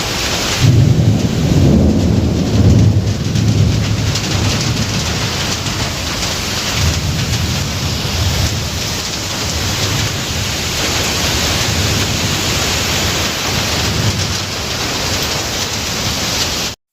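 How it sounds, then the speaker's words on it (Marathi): Heavy monsoon rain pours down steadily in Sinnar, Maharashtra, with strong wind, while deep thunder rumbles roll through, loud and close, with no voices. "एवढा जोरात पाऊस होता वारं पण खूप होतो आणि विजांचा गडगडात"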